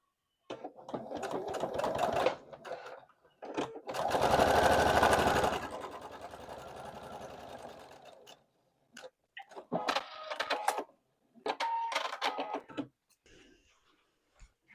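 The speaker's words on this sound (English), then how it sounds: "So I'm going to sew these together first and then add on that." Sewing machine stitching quilt pieces together for a scarecrow quilt block, with several close, rapid mechanical runs of differing length separated by short pauses and one longer steady stretch.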